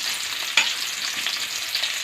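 Onions fry in a pan for an aloo masala curry, a continuous close crackling sizzle with a brief stirring clatter, no talking.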